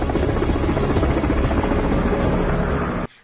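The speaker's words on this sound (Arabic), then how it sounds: "أباتشي AH-64 المروحية الهجومية الأقوى في العالم." An Apache AH-64 attack helicopter on display at an exhibition gives off a loud, steady rotor and turbine roar with rhythmic blade thumps, running close and continuous before cutting off abruptly near the end.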